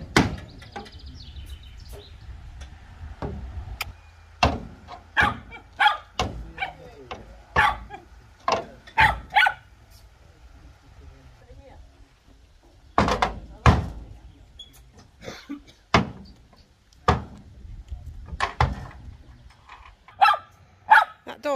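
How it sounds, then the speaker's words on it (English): A dog barks repeatedly in sharp, loud bursts, some in quick clusters, with pauses between and low background rumble. "That dog is so annoying."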